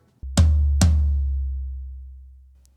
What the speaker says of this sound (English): So in this scenario we have Remo crown gels.